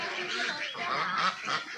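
Several loud, close honking calls from ducks in an enclosed duck farm, overlapping in quick succession.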